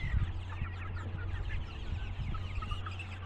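Many chickens cluck and chatter steadily at a small farm in Najran, Saudi Arabia, a dense flock close by with a low steady hum underneath and no talk.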